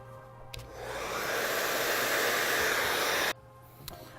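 A hair dryer blasts a steady, loud airy roar while blow-drying hair, rising in intensity for about three seconds, then switching off abruptly, leaving soft handling noises.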